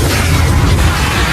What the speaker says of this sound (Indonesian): menuangkan bensin ke dalam mesin itu hingga meledak dan pintu berhasil terbuka